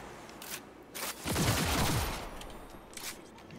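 In the video game Cyberpunk 2077, a gun fires a rapid burst of shots, loud and close, with scattered single shots before and after, and no one speaks.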